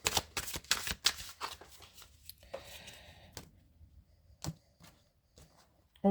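Tarot cards are shuffled in quick, crisp riffling bursts, then drawn and laid down with softer single slides and taps, all close and quiet with no voices.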